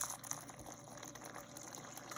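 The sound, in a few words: Brewzilla pump recirculating water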